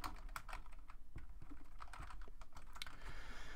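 Computer keyboard typing as text is entered in Microsoft Word, a steady run of close, crisp key clicks with uneven rhythm and no talking.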